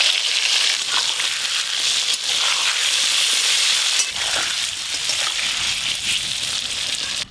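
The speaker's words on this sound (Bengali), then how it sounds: "তেল খুব ভালো করে গরম হয়ে গেছে এবার আমি খাসি মাংস রান্নার জন্য আলুগুলো ভেজে নেব" Potato pieces frying in well-heated oil before going into a mutton curry give a loud, continuous hiss and crackle that holds steady throughout, with faint stirring underneath.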